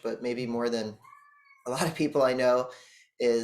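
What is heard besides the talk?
cat howling outside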